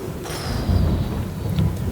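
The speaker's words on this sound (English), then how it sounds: "the skies are starting to turn dark from a dark storm cloud that's brewing in, and you do hear distant thunder" Distant thunder from a dark storm cloud rolling in at dusk, heard as a low, steady rumble with soft swells and the hiss of wind and light rain over it.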